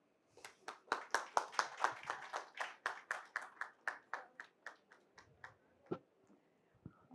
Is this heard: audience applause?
yes